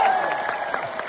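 Wrestling fans at WWE SmackDown in London applaud and cheer Cody Rhodes, a dense, sustained wash of crowd noise with a few voices rising out of it.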